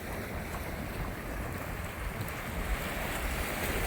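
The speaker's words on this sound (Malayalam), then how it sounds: "കണ്ടോ നല്ല തിരയടിച്ച് കയറുന്നു." Sea waves surge onto the beach at Chethy fishing harbour in Alappuzha, a continuous broad wash of surf mixed with gusty wind buffeting, steady and moderately close, with no voices.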